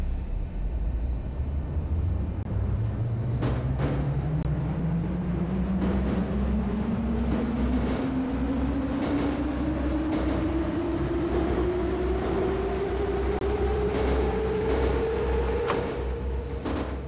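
An 81-717 metro train on the Zamoskvoretskaya line in Moscow Metro Simulator 2D accelerates with a rising electric motor whine, a loud rumbling hum and periodic rail clicks over a sustained run, with no speech.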